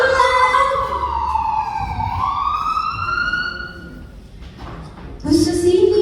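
Ambulance siren wailing with sweeping up-and-down tones, fairly close and loud over background traffic rumble and street noise, fading briefly before another burst of sound returns.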